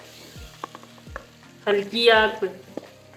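Boiled mutton (gosht) is stir-fried with spices in a pan over a low flame. A soft sizzle runs throughout, broken by the scrape and stir of a spoon, and a brief burst of frying comes halfway through. Someone speaks briefly.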